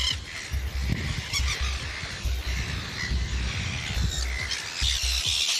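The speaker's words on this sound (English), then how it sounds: "Oh my God, look at these birds." Dense, loud chorus of squawking and honking seabirds at a crowded rookery, overlapping harsh calls over steady wind-like background noise throughout.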